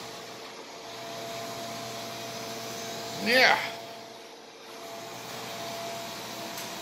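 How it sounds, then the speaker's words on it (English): An Ecovacs DEEBOT 900 robot vacuum cleaner runs with a steady, moderate whirring hum, and a voice speaks briefly over it. "Yeah, I don't want to be friends with the vacuum."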